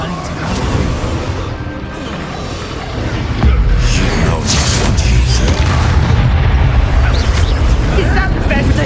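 A Confringo blasting spell explodes in Hogwarts Legacy combat, heavy booms rolling over a dense, loud battle din that swells after a few seconds, with game character voices over the top.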